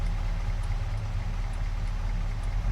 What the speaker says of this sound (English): turn the engine off so I don't run my car into oblivion